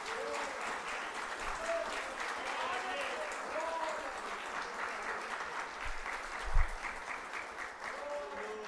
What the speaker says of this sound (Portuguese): isso merece uma salva de palmas para Jesus